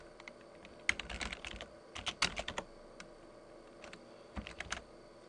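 Bursts of quick keystrokes on a computer keyboard as a PowerCLI command is entered for a VMware virtual machine, clustered in short irregular runs with pauses between, close and fairly quiet, no talking.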